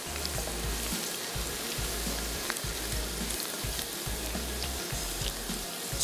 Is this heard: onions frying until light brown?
yes